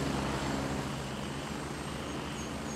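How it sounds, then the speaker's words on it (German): A helicopter in the video game Gray Zone Warfare gives off a steady, broad rotor and engine drone that fills the scene at an even level without any clear change. "Oh, ist der Helikopter laut."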